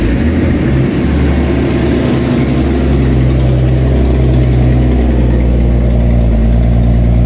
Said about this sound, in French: Collecteur d'échappement desserré, d'où le bruit